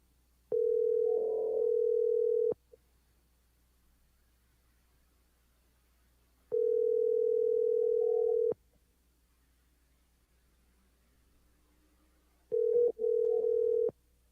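A phone call ringing out over speakerphone: steady electronic ring tones in long bursts separated by pauses, with two short back-to-back rings at the end, with no talking.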